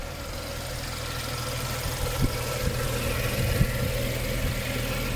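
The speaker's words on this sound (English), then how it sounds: "we're gonna look at the engine as it warms up" A 2015 BMW 640i xDrive Gran Coupe engine idling after a cold start at close range, a steady low rumble with slight knocking pulses and vibration, no voices.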